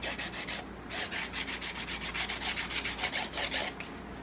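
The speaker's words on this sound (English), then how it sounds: "I come in with just a sanding stick, and I'm just gonna sand that down" A sanding stick rubs back and forth over the rough edges of a wooden ruler in a quick, even rhythm of soft scratchy strokes, close up, with a brief pause near the start.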